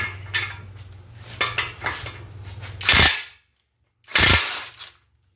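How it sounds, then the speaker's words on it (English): A 1.25 inch socket working loose the oil filter adapter on a Ford 289 engine, a few light metallic clinks and clatters followed by two sharp loud ratchet bursts. "So the next thing I'm going to do is remove the oil filter adapter"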